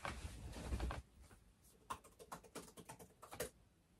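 Fingers tap on a computer keyboard in a quiet room, an uneven run of soft clicks following a brief burst of louder rustling noise, close and faint with no talk.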